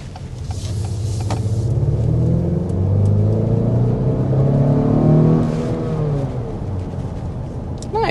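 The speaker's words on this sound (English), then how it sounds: "let's go ahead and start with a hard acceleration." A 2024 Acura RDX with standard all-wheel drive accelerates hard, its engine rumbling and rising in a steady, swelling roar heard from inside the cabin over about eight seconds, with no talking.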